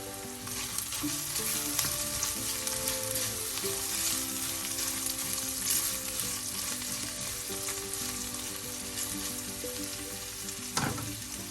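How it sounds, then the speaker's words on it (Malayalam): Oil sizzles steadily in a pan on low flame while ingredients are sautéed for kora fish curry, a continuous close frying hiss with occasional stirring scrapes and no talking. "ലോ ഫ്ലെയിമാക്കി വഴറ്റുക."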